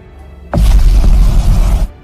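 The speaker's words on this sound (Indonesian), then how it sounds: "Setelah mengaktifkan nuklir, Dr. Serizawa pun mengucapkan kata untuk yang pertama dan yang terakhir kalinya pada Godzilla, dan nuklir pun akhirnya meledak" A nuclear bomb detonates in a Godzilla monster film: a sudden loud, deep boom erupts, rumbles heavily for over a second, then cuts off abruptly.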